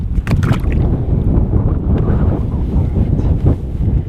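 Strong gusting high wind buffets the microphone in a steady roar, with faint splashes and knocks of a fishing kayak on water.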